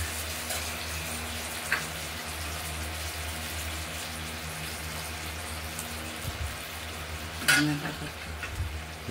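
Rohu fish curry sautéing with turmeric in a pan, a continuous low sizzle with occasional utensil knocks and a louder clatter near the end, no voices.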